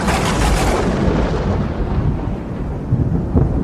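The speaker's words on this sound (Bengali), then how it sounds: "এদিকে বারবার বিদ্যুৎ চমকাতে আরম্ভ করলো।" Thunder rumbles loudly and continuously through a cartoon storm with lightning, a dense roaring crash with heavy rain noise mixed in, close and full, with no voices.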